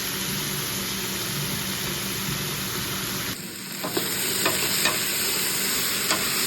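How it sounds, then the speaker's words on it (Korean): Steady sizzling and crackling of eggplant and green onion stir-frying in a hot pan, with occasional louder spatters and scraping toward the end, no voices. "충분히 볶아줍니다."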